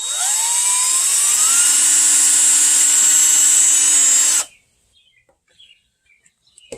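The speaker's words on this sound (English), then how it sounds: "drill bit and drill a hole" A power drill whines steadily at high pitch for about four seconds while drilling a hole for a boat scupper plug, then stops abruptly, leaving near silence with a few faint clicks.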